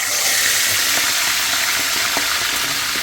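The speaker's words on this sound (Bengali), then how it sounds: "বড় মাথার পিসটা হলো আগে ভাজবো সুন্দর করে উল্টা পাল্টা দিয়ে" A large fish head piece frying in hot oil, a dense, steady hiss with faint crackles, loud and close throughout.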